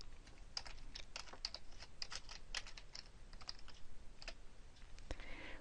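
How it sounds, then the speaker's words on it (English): Steady keystrokes on a computer keyboard, a quiet irregular run of light clicks and taps, close and alone with no talking. "Click in the box inside and type the text that you want to put in."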